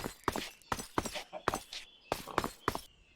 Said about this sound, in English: there is a chinking sound every time you move